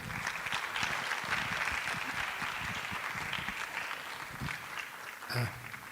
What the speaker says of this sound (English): With a round of applause, let's invite our moderator for the first session, Professor Peter Donko.